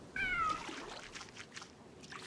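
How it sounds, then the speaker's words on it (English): A cat lets out one loud, close meow near the start, then the scene falls to quiet background noise with faint running-water sounds. "Loud cat."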